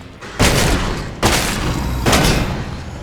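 Three heavy shotgun blasts from the video game ELEX II, each a loud booming burst spaced under a second apart over a steady noisy background.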